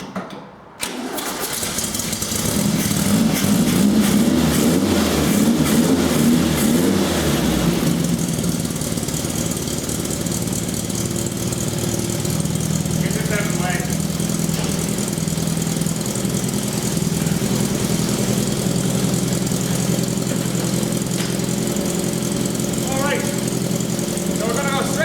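A 1974 rat-look VW Beetle engine cranks briefly, then catches and runs at a steady idle, loud and close, with voices over it.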